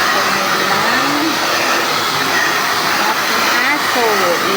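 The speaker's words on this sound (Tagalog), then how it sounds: "nag-blower na ako" A hair dryer blows steadily and loudly on a dog throughout, a constant broadband whoosh with a faint voice or two underneath.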